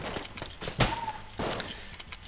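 Blooper, a shotgun-like weapon in the Enter the Gungeon video game, fires in a couple of sharp bursts amid a busy stream of smaller game shots and effects, fairly close and moderately loud.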